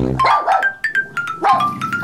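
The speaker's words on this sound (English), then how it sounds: "Hey, Siri, play puppy noises." Recorded puppy noises play from a phone speaker, a loud close run of repeated yips and short barks in quick bursts with brief pauses between them.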